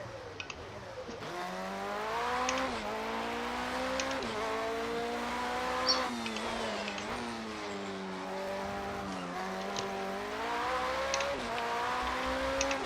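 A race car engine drones steadily through a long stint at Le Mans in a racing video game, its pitch rising and falling with gear changes, with a worn engine and a few brief tire squeals, loud and continuous without talk.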